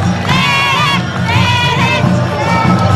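Crowd at a town fiesta and coronation celebration in Mexquitic de Carmona, San Luis Potosí, cheering and shouting with high children's voices and whoops, loud and continuous in bursts.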